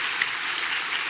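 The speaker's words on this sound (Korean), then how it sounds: "우리 정강정 집사 한번 잠깐 일어나시고 우리가 위로 박수 겸 수고하셨다는 박수 한번 드리겠습니다." Brief, steady applause from a church congregation, a continuous patter of many hands clapping at once.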